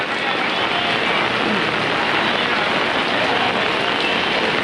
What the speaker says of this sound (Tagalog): lumakas na yung ulan